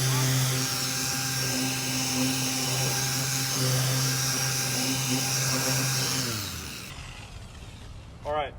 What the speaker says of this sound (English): You want the polisher flat on any surface that you want to get perfect.